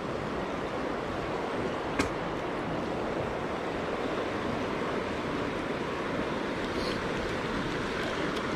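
River rapids rushing steadily in a close, continuous broadband roar, with one brief sharp knock partway through and no voices.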